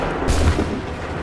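A single sharp volley of musket fire erupts on command in Assassin's Creed III Remastered, loud and close, then fades into a brief rumbling tail.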